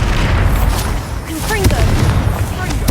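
Bombarda blasting spell from Hogwarts Legacy, booming explosions and bursts in dense game combat with a rumbling low end, mixed under music and a speaking voice.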